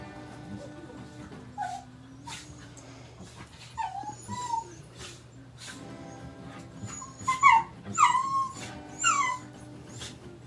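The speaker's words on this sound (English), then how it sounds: "This interruption is brought to you by stupid dogs fighting." Dogs scuffle and squabble with high, wavering whimpers and sharp yips in scattered bursts that grow louder and more frantic toward the end, with a steady low hum underneath.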